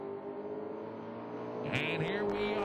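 Drag race cars launching, an 1980 Malibu and a 1967 Coronet, a steady loud engine roar that swells and revs higher near the end, with a commentator talking over it.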